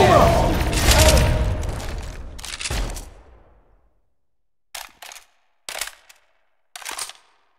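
Gunfire in Left 4 Dead 2: a dense, loud burst of rapid shots that fades, then several short separate bursts after a moment of silence, with game voices mixed in.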